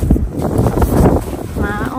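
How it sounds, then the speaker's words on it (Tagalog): Strong wind blowing outdoors near a house with plants as rain threatens, buffeting the microphone in gusty rumbles while someone talks over it. "Tingnan nyo, malakas ang hangin."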